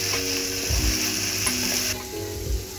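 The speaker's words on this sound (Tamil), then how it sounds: "இதை நல்லா சாட்டே பண்ணுங்க" Vegetables for veg noodles sautéing in a pan, a soft continuous sizzle with scraping stirs, under a steady mechanical hum with shifting tones, and no talking.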